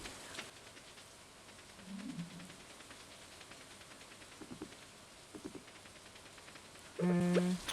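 Quiet rain patter in the farming game Stardew Valley, a faint, soft hiss with scattered light ticks, broken by a few brief game sound effects and a short tonal chime near the end.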